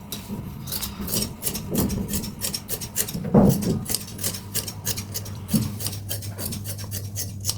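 Scissors cutting dress fabric, a steady run of close, rhythmic rasping snips repeating throughout, with occasional thuds of the blades and cloth against the table.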